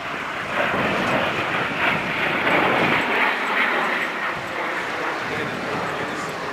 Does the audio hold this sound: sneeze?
no